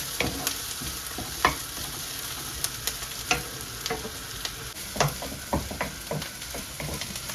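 Onion, green chilli and garlic fry in a pan for a squid curry, a continuous close sizzle broken by frequent scraping stirs and light clicks of a utensil against the pan, with no talking.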